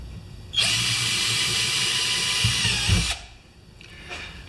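A power drill bores a rivet hole in a homemade fishing rod carry case, giving one steady, high whine of about two and a half seconds that stops abruptly, with faint handling noise afterward.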